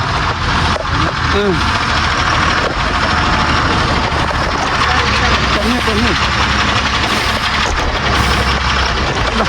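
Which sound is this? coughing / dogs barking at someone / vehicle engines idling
vehicle engines idling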